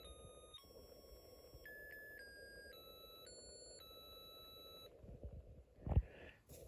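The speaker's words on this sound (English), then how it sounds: "now you hear the happy birthday song" A thin electronic beeping tune from a Snap Circuits music chip and speaker plays Happy Birthday note by note, quiet and tinny, followed by a brief clatter near the end.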